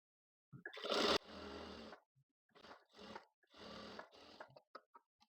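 A sewing machine stitching lining onto blouse fabric in several short whirring runs separated by pauses, close but fairly quiet, with a few small clicks at the end.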